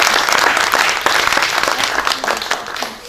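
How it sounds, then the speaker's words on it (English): An audience at a conference in Kenya gives a loud, sustained round of applause, dense clapping filling the whole stretch with no pauses. "And please let us give him another round of applause."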